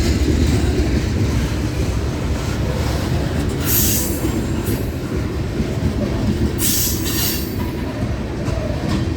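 A long Florida East Coast freight train made up of trash cars with white tops rolls past close by, a loud steady rumble of wheels with intermittent high squeals from the rails and no voices.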